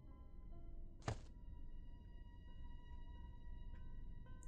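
Single dull thunk of a vase dropped in Granny: Chapter Two, one short impact against a quiet, humming game background, followed by faint tonal ambience.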